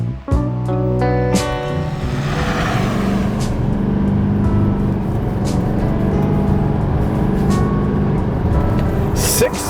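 A 2024 Chevy Silverado 2500 HD Duramax diesel truck with a 10-speed transmission, in four-wheel drive, accelerating at full throttle; a loud, steady engine roar builds and holds close up, with a few brief clicks and knocks over it.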